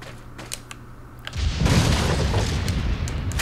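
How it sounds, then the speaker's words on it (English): Flash grenade going off in Resident Evil 4, a sudden broadband boom about a second in that swells into a sustained, loud roar of debris and rumble over a low hum. "it was a flash grenade now"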